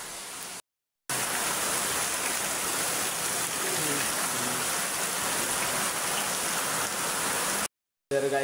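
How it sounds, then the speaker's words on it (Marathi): Heavy rain pours down steadily as a dense, loud, continuous hiss broken only by two short silent cuts. "खूप जोरात पाऊस पडतो आता इथं"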